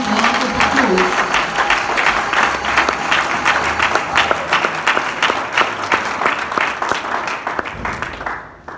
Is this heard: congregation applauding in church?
yes